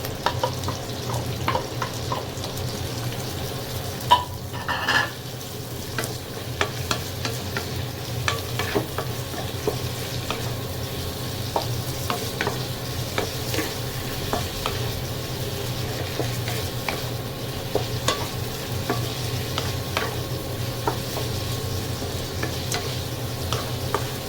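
Tomato, onion and ginger sauté in a pan for a home-style pork and vegetable dish, a steady low sizzle with frequent soft stirring clicks and a louder utensil knock early on, no voices.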